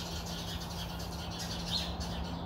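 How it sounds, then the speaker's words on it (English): Birds chirp and squabble in a morning vegetable garden, with a dense, busy twittering that stays fairly faint over a steady low background hum, and no one talks. "these birds are really fighting this morning"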